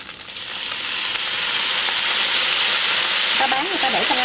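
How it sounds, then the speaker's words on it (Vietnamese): Noodles with pork belly stir-fry in a pan over medium heat, a loud continuous sizzle and hiss that swells and holds, with a brief squeak of utensils near the end. "Mình xào với lửa vừa thôi nha các bạn."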